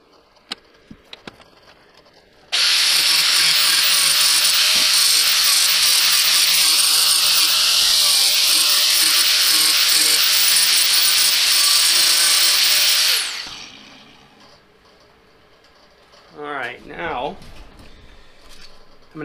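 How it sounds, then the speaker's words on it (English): A power grinder cuts into a model car's belly pan, a loud, steady high-pitched whine lasting about ten seconds before winding down, preceded by a few light clicks and followed by a brief voice. "So, go ahead and put on my safety glasses and hearing protection, and we'll start grinding."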